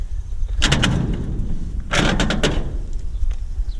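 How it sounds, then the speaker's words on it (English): A door in a farm building being worked open, two bursts of rattling, scraping knocks about a second apart, close and fairly loud over a low rumbling background. "See if I can get this door open."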